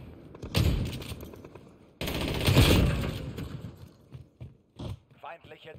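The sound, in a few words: gunfire in Call of Duty Modern Warfare video game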